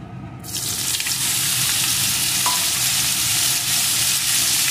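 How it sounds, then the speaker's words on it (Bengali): Cauliflower pieces hit hot oil after paneer has been fried in it, setting off a loud, steady hiss and sizzle that continues without a break, with no talking. "এখন এই তেলের ভিতরে ফুলকপির টুকরোগুলোকে দিয়ে দেব"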